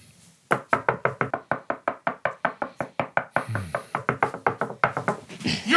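Rapid knocking on a door, a long run of sharp, close raps in quick steady succession with a brief burst of other noise midway, loud and dry throughout.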